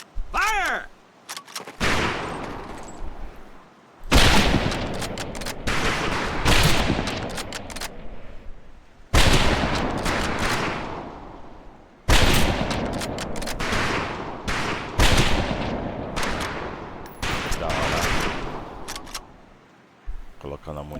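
Rifle volleys crack out on a shooting range in Medal of Honor: Pacific Assault, loud bursts of massed fire repeating every few seconds with short pauses between, and voices heard among the shots.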